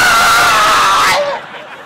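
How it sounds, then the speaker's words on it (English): A person lets out a loud, sustained high-pitched scream that cuts off abruptly after about a second, leaving a faint room tail. "Scream real loud? Yeah, like this."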